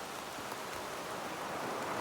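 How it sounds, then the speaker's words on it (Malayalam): Steady rain falls in Kochi, a dense, even hiss of drops that holds at a constant level and grows a little stronger toward the end, with no voices. "മഴ വന്നു സുഹൃത്തുക്കളെ, കുളിക്കുകയാണ് മഴയത്ത്"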